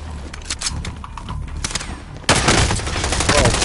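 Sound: gunfire in a Call of Duty Warzone Resurgence match, from a video game

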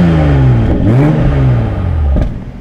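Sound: Toyota Supra 2020 engine revving, exhaust sound

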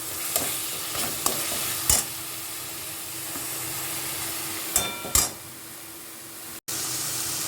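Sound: frying green chili paste and Kashmiri chili powder

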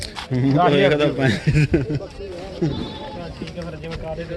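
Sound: goat bleating at a goat market

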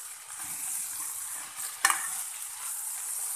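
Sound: lightly sautéing coriander chutney ingredients in a pan

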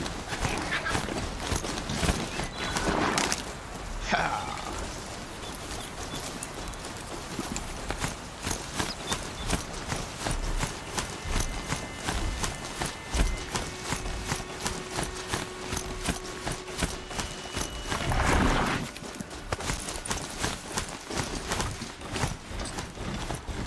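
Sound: horse galloping while being ridden, from video game Horizon Zero Dawn

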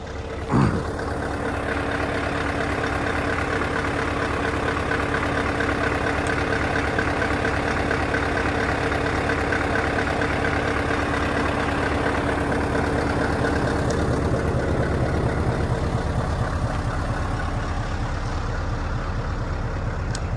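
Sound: Scania European truck engine idling

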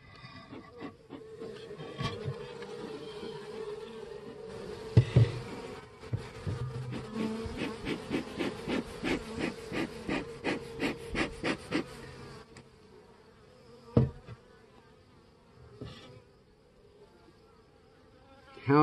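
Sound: aggressive honeybees buzzing around a Langstroth hive

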